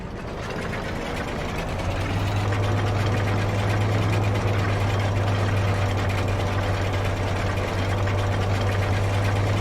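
A tractor harvesting maize in the farming game Farming Simulator 25 drones steadily and fairly loud throughout, a low constant engine hum with a strong steady tone, without talk.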